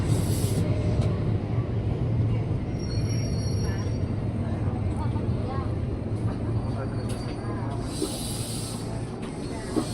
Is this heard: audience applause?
no